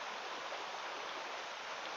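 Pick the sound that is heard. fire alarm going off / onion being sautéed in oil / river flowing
river flowing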